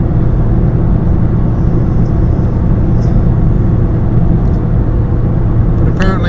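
A Toyota Trueno engine revs steadily while held in second gear, a loud, continuous, close-up rumble with no gear change and no talk.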